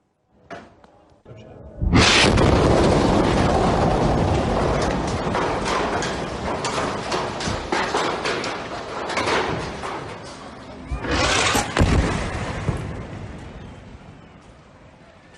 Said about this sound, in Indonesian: Bangunan seketika runtuh dengan tanah akibat ledakan besar dari rudal jet tempur